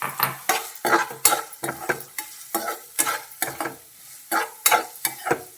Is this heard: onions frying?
yes